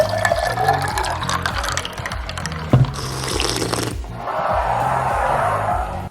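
Liquid pours and splashes into a glass as green tea is filled, a continuous watery gush with a brief clink midway and a steadier flow toward the end.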